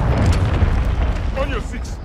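Mortar strike in Call of Duty: Modern Warfare II multiplayer, a heavy rumbling explosion with sustained low roar, loud and close, while a voice speaks over the tail.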